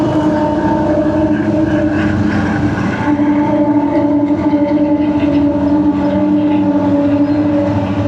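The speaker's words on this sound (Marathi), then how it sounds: "ट्रेन बिन जायला लागली इथं बाई" Train passing nearby, a loud continuous rumble with droning tonal hum that holds steady for several seconds, heard close from a roadside.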